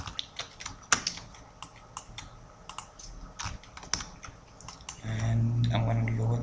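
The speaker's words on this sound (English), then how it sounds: "I'm going to type in something in here" Fingers typing on a computer keyboard, quick uneven clicks and taps close up, followed by a steady low hum near the end.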